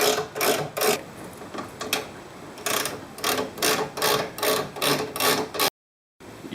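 A normal ratchet undoes a nut on a front radius rod of a VT–VZ Holden Commodore, giving quick rhythmic bursts of clicking close by, in repeated runs with brief pauses and no talk.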